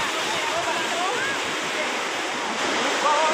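Steady rushing of river water churning around boats packed against a fence, a broad continuous wash with faint chirping voices or birds near the end.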